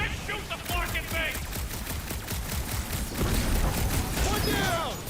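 Rapid gunfire from the Guardians of the Galaxy video game rattles in dense bursts over clanking mechanisms and crashes. Voices shout over the din in places.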